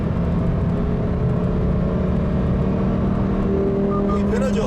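A Lamborghini Huracan STO engine revs loudly and continuously, its tone shifting as it climbs past about 4,600 rpm, a steady droning roar up close.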